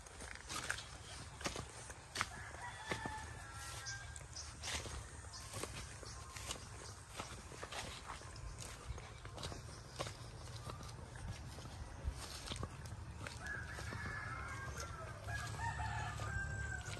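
Chickens cluck steadily and roosters crow repeatedly inside a layer house on an egg farm, a dense, continuous flock chorus with a low background hum and occasional footsteps nearby.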